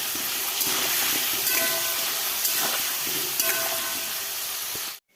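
Potatoes fry with meat in a pan after salt and turmeric go in, in a village kitchen, giving a steady close sizzle and hiss that cuts off abruptly at the end.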